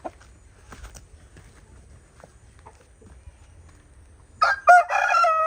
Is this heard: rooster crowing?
yes